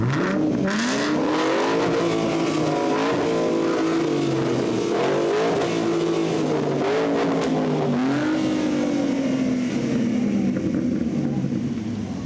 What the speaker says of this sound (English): With finally catching up on that Mustang with side exhaust, so you can hear the madness.